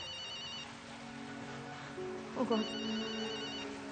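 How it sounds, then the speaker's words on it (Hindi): A mobile phone rings with an incoming call during a Hindi TV drama, playing a repeating electronic ringtone at moderate volume while a woman briefly exclaims over it. "मानस का फोन आ रहा है।"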